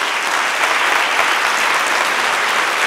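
Steady, dense applause from a concert audience at a vocal-symphonic evening in Deva, filling the hall at an even level with no break and no talking over it.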